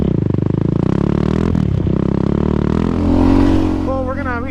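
Yamaha Raptor 700 ATV engine roaring and revving hard on a dirt track, a loud throbbing exhaust with a brief dip and rising pitch near the end, up close, with wind noise and a voice briefly heard.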